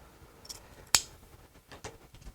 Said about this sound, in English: So we're going to cut the tail about 12 inches.